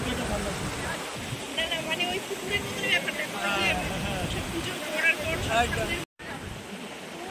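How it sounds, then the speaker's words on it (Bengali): Continuous rushing water from Changey Waterfall near Kolakham fills the background while people talk over it. "ঝর্ণা এখানে আছে, ওর উপর থেকে পড়ছে।"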